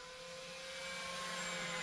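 An E-flite Cirrus SR22T RC model airplane makes a full-speed pass at full throttle, its high whirring whine steady and gradually swelling louder as it approaches.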